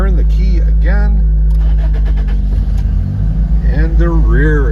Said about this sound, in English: the rear engine starts up behind the seat here